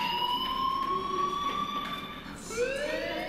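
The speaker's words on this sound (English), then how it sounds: "do you hear that fire alarm?" A fire alarm sounds in the video game Life Is Strange: loud, sustained electronic tones that wail steadily, then shift pitch partway through.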